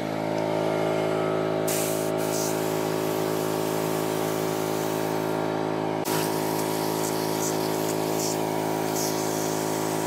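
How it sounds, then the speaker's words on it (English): Steady hiss of a spray gun applying clear glaze to pottery outdoors, running continuously with a constant motor hum underneath and brief pauses in the spray. "Now it's time to move outside to do the spray glazing."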